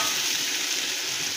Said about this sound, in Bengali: ভালো করে কষিয়ে নেবো এমনভাবে।